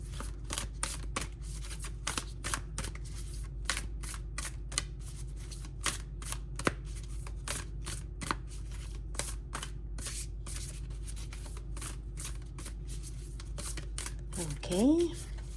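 Tarot cards are shuffled in quick, crisp riffles and taps, a run of sharp clicks close by, with a voice speaking softly at times.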